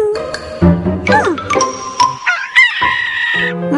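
A rooster on a farm gives a few crowing calls, loud and close, rising and falling across the short stretch.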